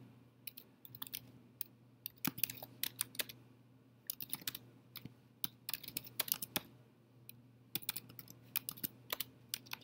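Fast, irregular typing on a computer keyboard, with close, crisp key clicks in bursts and short pauses over a steady low hum.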